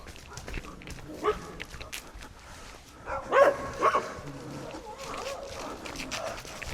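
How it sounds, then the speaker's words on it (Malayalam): Two or three German Shepherds bark in a few sharp, fairly close bursts around the middle of the clip, with people talking softly in the background. "അപ്പോൾ അവിടെ 2-3 ഡോഗ്സ് ഒക്കെ ഉണ്ട്."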